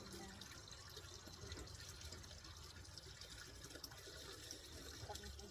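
Cold spring water gushes steadily from a natural source, a faint continuous rushing and splashing with no breaks.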